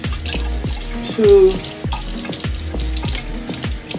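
Running tap water pouring into a sink while a sweet potato is washed: a steady close splashing stream with rhythmic knocks of scrubbing, and a brief spoken word.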